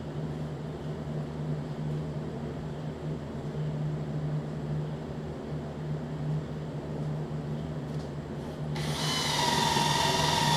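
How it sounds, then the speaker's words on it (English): A drill grinds down metal on a Craftsman DLT3000 riding mower part, a steady close whir running throughout and turning into a brighter, harsher whine near the end. "grab a drill and I grind down"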